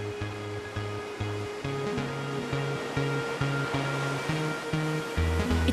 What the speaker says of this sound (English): At Surf Snowdonia, state-of-the-art technology creates the world's longest man-made surfing